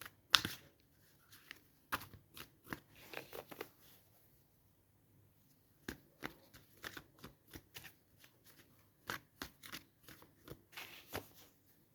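Tarot cards shuffled and drawn by hand at close range in a quiet room, with bursts of crisp riffling and soft flicks that come in clusters separated by brief pauses.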